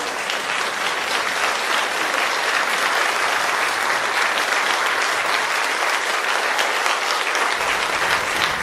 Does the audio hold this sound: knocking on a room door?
no